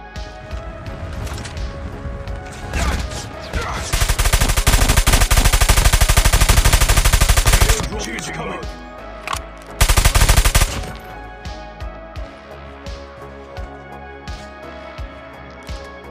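Type 19 rifle fire in COD Mobile, a battle royale shooter: rapid automatic bursts of close gunfire, one long sustained burst of several seconds and a shorter one later, with scattered game clicks and impacts between.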